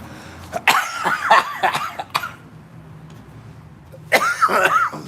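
Several harsh, raspy coughs in a close burst, a pause of quiet, then another fit of coughing.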